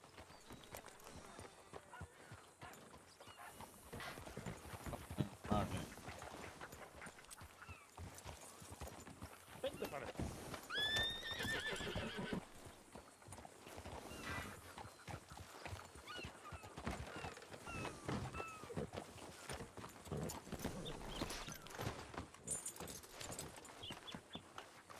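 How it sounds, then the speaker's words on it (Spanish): Horse hooves clip-clop through a RedM roleplay game scene set in 1920, with a brief whinny partway in, all mixed under ongoing conversation and game ambience. "Puedes aparcar ahí el caballo."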